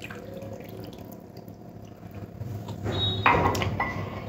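Water is poured over long strips of boneless chicken for a marinade, a short splashing pour that swells in the second half over a low steady background hum.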